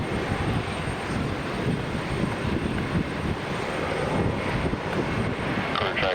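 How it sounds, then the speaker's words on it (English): A Boeing 767 heavy jet on approach to land at Raleigh-Durham International Airport produces a loud, sustained engine roar with a faint high whine, steady throughout and close to the listener. "767 is coming in"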